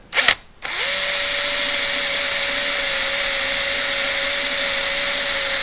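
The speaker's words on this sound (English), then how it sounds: "Right, 4mm drill bit," A short burst of noise, then a power drill with a 4mm bit and cutting oil spins up, drilling a VW 2-litre air-cooled cylinder head, running steadily with a high, even whine, close and loud, without pause.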